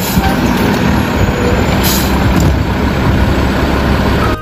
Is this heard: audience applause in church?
no